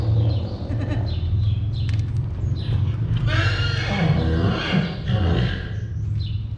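A horse nickers and whinnies nearby over a steady low rumble, with a few light hoof clops and scattered rustling.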